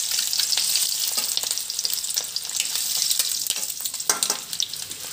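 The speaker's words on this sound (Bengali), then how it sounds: "এবার ডিমটা ভেজে নেব" An egg fries in hot oil in a pan, giving a loud, dense, steady sizzle and crackle with small pops throughout and no voices.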